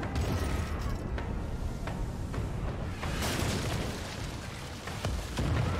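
Ship cannons fire from both guns in the video game Pillars of Eternity 2, giving a string of booms and explosive bursts over a dense, roaring battle background.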